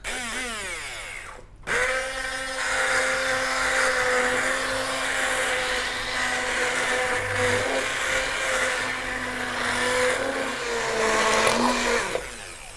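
Hand blender whirring steadily as it purees spinach soup, a loud continuous motor whine that starts abruptly and shifts slightly in pitch as it works through the mixture.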